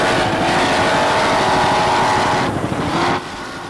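An open-class racing powerboat roars past at a 1992 national championship race off a New York pier, its engine a loud continuous drone that fades somewhat at the end.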